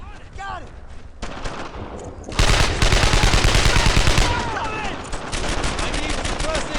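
Sustained gunfire in the World War II shooter Brothers in Arms: Earned in Blood, with dense rapid bursts and rattling volleys that swell loudly midway, while soldiers shout over the firefight.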